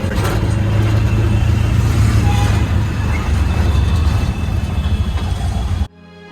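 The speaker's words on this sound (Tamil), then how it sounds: "சிக்னலில் டிராஃபிக்." Car engines idling and revving in traffic stopped at a signal in Mumbai, a steady close low rumble that cuts off abruptly near the end.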